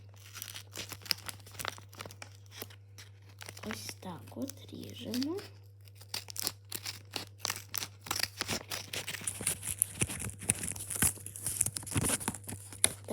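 Scissors cut and tear open a package amid rustling, crinkling plastic wrap, with short snips and tearing bursts that grow busier toward the end, heard close and fairly quiet over a steady low hum.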